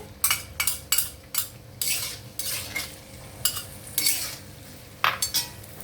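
Potatoes frying in oil in a kadai, with repeated scraping and clinking strokes of a metal spatula against the pan over a faint low sizzle.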